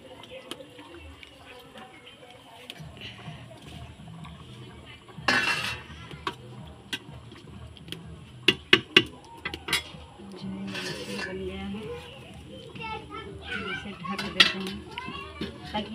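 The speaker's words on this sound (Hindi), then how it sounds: "अब हम इसमें मछली डाल रहे हैं, उबल गया है अच्छा से" Fish dropped into boiling curry in a pot on a wood-fired stove, with metal pot and utensil clinks and stirring scrapes, a few sharp clanks midway, over a steady simmer.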